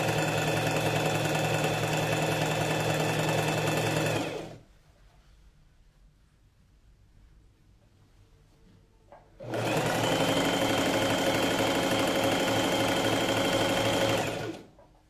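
A sewing machine stitches a coat's lining to its facing in two long, steady, loud whirring runs, separated by a quiet pause of about five seconds.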